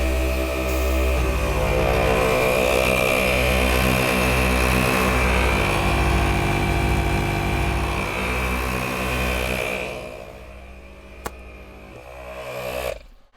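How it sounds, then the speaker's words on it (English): Two onboard air compressors run together to inflate a vehicle tyre, a loud steady mechanical drone with rhythmic pulsing that carries on for about ten seconds, then drops off and quiets, followed by a brief click and a short return of noise. "that's both compressors running to air up the tyre"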